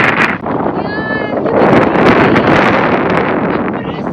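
Strong wind blows on top of Donnelly's Dome during a hike, roaring and buffeting the microphone in continuous loud gusts for about four seconds.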